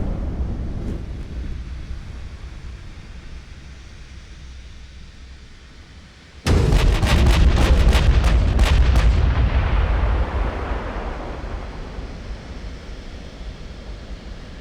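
Warship main guns fire in the naval strategy game Ultimate Admiral: Dreadnoughts: after a low wind-like rumble, a sudden loud blast opens a rapid cluster of booming salvo shots that roll into a fading, echoing rumble.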